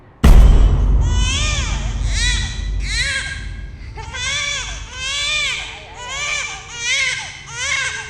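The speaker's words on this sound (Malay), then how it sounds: "tangisan bayi" A baby wails in repeated loud, strained cries after a sudden start, each sobbing burst rising and falling with short gasping pauses between, close and prominent throughout.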